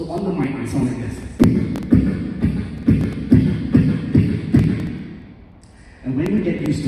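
A beatboxer imitates a kick drum by voicing a tight-lipped B sound into a microphone, a series of about eight punchy, evenly spaced close thumps with a short pause near the end before more.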